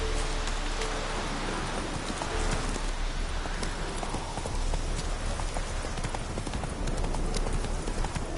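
Steady clip-clop of horse hooves at a brisk, even pace, close and loud over a dense, noisy background, from the video game The Witcher 3: Hearts of Stone.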